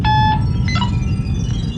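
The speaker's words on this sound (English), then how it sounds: "Isn't that your scanner alarm, Maura?" Spacecraft scanner alarm aboard a ship: a loud electronic tone sounds with a few short beeping pulses over a low engine hum, with no talk.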